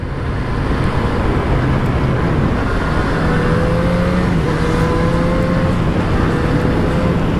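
A motorcycle engine drones steadily during a ride on new tyres, with rising and falling pitch as it shifts and pulls. Heavy wind rush runs throughout, and the engine sounds close and loud.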